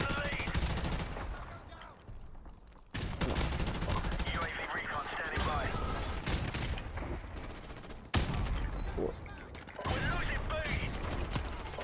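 Rapid gunfire from a shooter video game, dense bursts of automatic shots with mechanical reload clacks, loud and close, broken by a couple of brief pauses, with speech mixed in at times.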